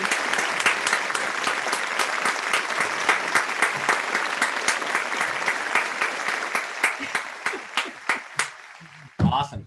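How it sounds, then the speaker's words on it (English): A studio audience applauds a chef during a live fresh pasta cooking class: steady, dense clapping that holds for most of ten seconds before thinning into a few last claps, with a voice briefly heard at the end. "give Chef Jackson a big round of applause out there"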